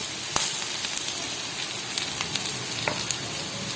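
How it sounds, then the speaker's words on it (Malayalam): A sardine curry base sautés in a pan with a bright continuous sizzle, broken by a few crisp crackles and stirring clicks, close and fairly loud. "അപ്പോൾ ഇതൊക്കെ ഒന്ന് നന്നായിട്ട് വഴറ്റി"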